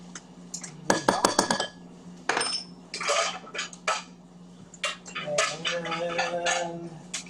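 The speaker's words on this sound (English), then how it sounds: "we're gonna stir in some ketchup and mustard" Ketchup and mustard stirred into a thickening pot, a spoon clinking and scraping against metal in bursts of knocks and rattles at close range, with brief pauses between strokes.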